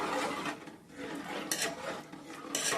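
A spoon scrapes and clinks softly against a cooking pot as coconut milk is stirred, in faint intermittent strokes with a few brighter metallic taps.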